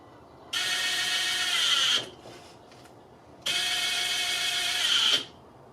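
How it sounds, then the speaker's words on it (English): An impact wrench runs bolts on a Harley Davidson Touring clutch cover in two high-pitched whirring bursts, each about one and a half seconds long with a short pause between them, close and alone. "I'm going to get these close with the impact"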